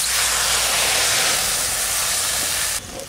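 Frying potatoes hiss loudly and steadily after water hits the hot pan, a close, continuous hiss that drops off sharply near the end.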